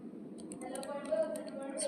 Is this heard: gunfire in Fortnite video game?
no